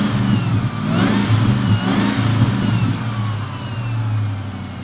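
A Ford Mustang Cobra engine idles close by and is revved twice, each rev swelling briefly before it settles back to a steady, rumbling idle.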